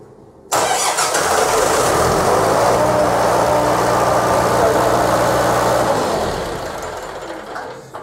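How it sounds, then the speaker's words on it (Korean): A fire-fighting engine pump is cranked manually and catches abruptly, then runs at a loud, steady roar for several seconds before its sound begins to fall away near the end. "엔진 펌프를 수동으로 기동을 시키겠습니다."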